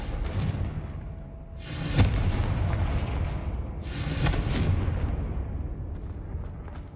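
Confringo blasting curse explosions in the Hogwarts Legacy video game, two loud booming blasts roughly two seconds apart over a rumbling low background, each with a sharp crack at the onset and a broad decaying roar.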